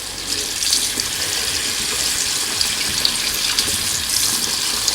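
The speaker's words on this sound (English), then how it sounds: "So I do turn on the water" Water from a tap runs steadily over a TOZO S2 smart fitness tracker watch, a constant close hiss of splashing without pauses.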